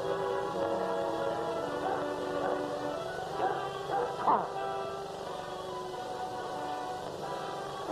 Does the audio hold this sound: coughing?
no